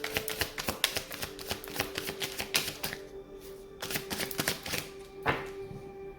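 Tarot cards being shuffled by hand, a rapid run of soft riffling clicks and snaps, quiet and close, with no talking.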